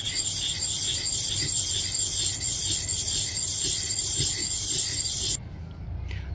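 Stone being rubbed by hand with a grit abrasive pad at a late grit stage, producing a loud, close, continuous gritty rasping that stops abruptly near the end and leaves quieter background.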